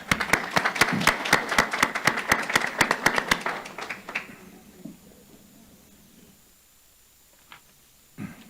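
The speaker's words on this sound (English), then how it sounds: "Another round of applause for them." Audience at a board meeting applauds students, a dense burst of clapping that fades out after about four seconds, then quiet room tone and a few scattered claps.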